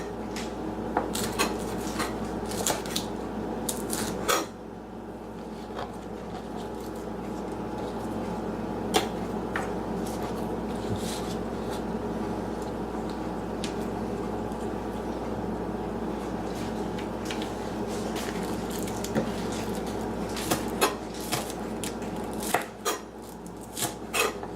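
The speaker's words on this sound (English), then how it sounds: "You just chop those up." Onions, green blades included, chopped with a knife on a board, irregular clusters of sharp taps and pauses against a low kitchen hum, no talk.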